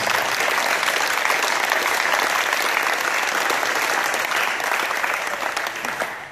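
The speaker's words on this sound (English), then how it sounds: "So let's give them a round of applause." Sustained round of applause from a crowd at an outdoor baseball team welcome-home gathering, dense steady clapping for about six seconds before tapering slightly at the end.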